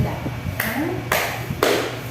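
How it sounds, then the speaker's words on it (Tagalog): A classroom of students gives three sharp, evenly spaced bursts of applause for a student, each a quick loud clap that fades, with a voice speaking before them. "Bigyan niyo naman ng tatlong palakpak si Ginoong Pinagunda."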